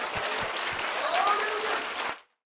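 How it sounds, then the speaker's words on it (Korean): A church congregation applauds God in a dense, steady burst of clapping lasting about two seconds, with a few cries rising through it before it cuts off abruptly. "우리 하나님께 박수를 드리십시오."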